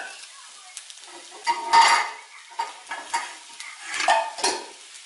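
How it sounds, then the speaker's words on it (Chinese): River snails stir-fried in a wok with oil, a metal spatula scraping and clattering against the pan in irregular bursts over a faint sizzle, fairly close. "现在已经炒了5分钟，我们也开始倒油下去"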